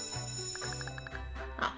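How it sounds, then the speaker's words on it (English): A school bell rings in the video game Kindergarten 2 as a quick series of about six evenly spaced metallic strikes. It is faint and sits over soft background music, and a short rustle follows it. "there's the bell"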